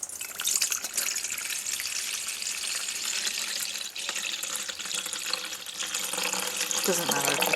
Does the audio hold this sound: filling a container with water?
yes